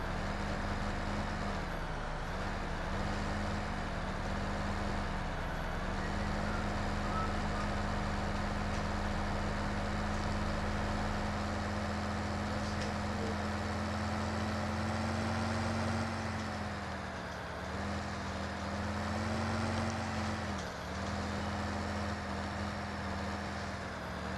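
A farm tractor idles and manoeuvres while being put away, its engine a steady low diesel drone throughout, with a few brief dips and swells in pitch as it shifts, close and continuous with no talking.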